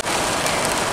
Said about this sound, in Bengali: জোর বৃষ্টি হচ্ছে রে।